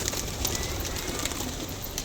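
Pigeons at a Bengali pigeon keeper's loft give soft, continuous cooing over a steady rustling background, close and moderately loud, with no talk.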